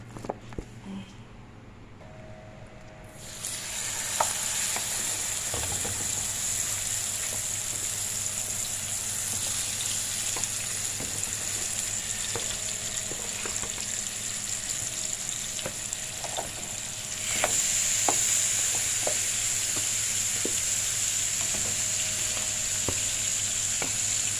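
Curry chicken sizzles and fries steadily in a pot while being stirred. The sizzling is continuous and close, growing louder partway through, with occasional soft clicks of the spoon against the pot and no talk.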